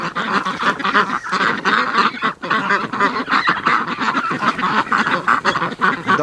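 A flock of ducks quacks continuously and loudly nearby at a lake in the morning, overlapping calls forming a dense, chattering clamor.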